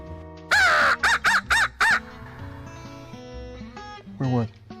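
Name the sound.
crow cawing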